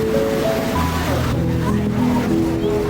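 A boat crosses the sea off Lamma Island, Hong Kong, with a steady engine drone and rushing water and wind filling the whole stretch, the hum shifting slightly in pitch as it goes.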